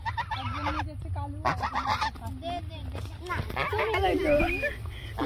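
Geese or ducks honk loudly and repeatedly at close range in a Bangladeshi village yard, their harsh calls mixed with people talking.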